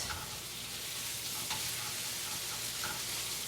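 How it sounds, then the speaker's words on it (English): Shredded potatoes sizzle in plenty of butter in a small pan for Swiss rösti, a steady close frying hiss with light scraping and stirring and no talking. "You're going to put the rösti in here, the potatoes we just shredded"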